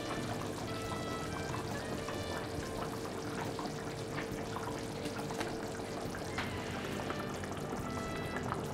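Duck curry boiling steadily in a pot, with fat floating on top, gives a continuous close bubbling and faint sizzle that holds at an even level throughout.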